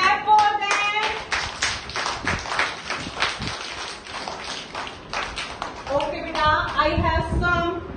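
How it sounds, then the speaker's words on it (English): Young children in a prep classroom clap together in a quick, scattered patter that runs almost the whole time, with a teacher's voice heard near the start and end. "Okay, now clap for them."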